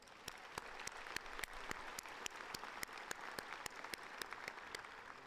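Applause at a Lamar University College of Engineering commencement, May 2017, a fairly faint, even patter of many hands with regular sharper claps cutting through, steady and unbroken for several seconds with no voices.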